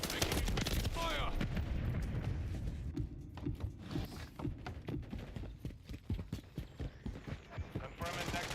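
Gunfire in Call of Duty: Modern Warfare III multiplayer, with dense bursts of shots early and then a rapid rhythmic string of sharp cracks, mixed with game sounds and a brief voice.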